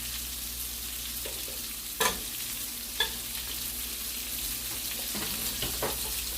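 Diced onion fries in melted butter and oil in a pan, a steady soft sizzle with a couple of sharp clinks or pops near the start and middle, quiet and close without speech.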